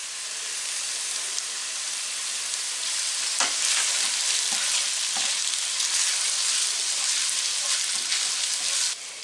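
Kimchi fried rice sizzles steadily in a hot pan after kimchi juice is added, a loud, constant hiss with occasional sharper crackles and scraping stirs throughout.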